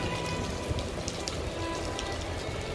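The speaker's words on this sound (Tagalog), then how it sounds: "malakas ang ulan." Heavy rain pours steadily onto surfaces somewhere in Bermuda, a dense, continuous hiss with scattered close drops pattering throughout, loud and unbroken, with no voices.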